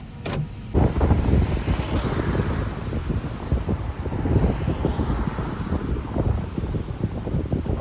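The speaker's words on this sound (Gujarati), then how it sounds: "ઠંડો પવન છે" Cold wind blows at the seaside, a continuous buffeting roar striking the microphone with gusts that rise and fall throughout, loud and close, after a brief click at the start.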